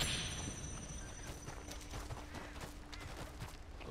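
Horse hooves clip-clop at a walking pace in the video game Red Dead Redemption 2, a steady series of soft, moderately close hoof steps over a low ambient background.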